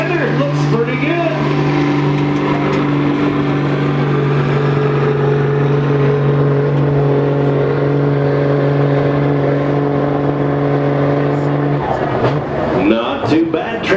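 A 5-ton M923A2 6x6 military truck straining at a tractor pull holds a loud, steady diesel drone with strong low harmonics for about twelve seconds before cutting off, as crowd noise and an announcer's voice carry over the end.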